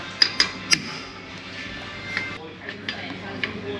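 A few sharp metallic taps of an old bearing race tapping a seal into a Ford F350 differential housing, three close together then a couple more spaced out, near and fairly quiet over a low background hum.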